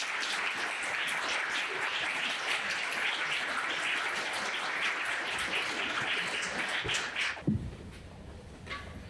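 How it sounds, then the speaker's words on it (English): Audience applause for two featured speakers at an academic talk on Cantonese heritage, a steady dense clatter of clapping lasting about seven seconds before cutting off abruptly into quiet room tone. "let us give a round of applause to our featured speakers today, Professor Virginia Yip and Professor Stephe"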